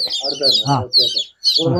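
Country chickens and about fourteen chicks cluck and cheep in quick bursts close by on a farm in Pathanamthitta, Kerala, with a person talking over them.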